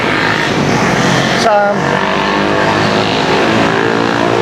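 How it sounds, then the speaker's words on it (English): Loud, continuous engine roar from motorbikes with sport mufflers nearby in Surabaya, Indonesia, with a brief rev spike and steady droning exhaust throughout. "So many noisy motorbikes."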